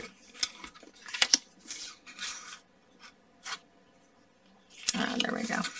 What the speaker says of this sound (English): So we're going to line up each of these in our cutter and cut them in half.